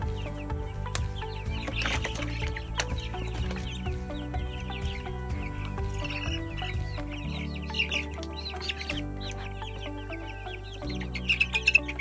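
Chickens, two roosters and the rest hens, cluck and squawk steadily over a background of low, steady hum, with occasional sharper calls and a small burst of activity near the end.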